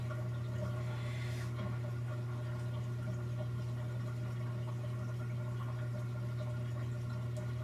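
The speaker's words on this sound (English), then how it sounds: "when you push the button again, it starts draining the water." An LG washing machine in diagnostic mode drains water, a steady low pump hum with faint watery trickling running evenly throughout, with no talk.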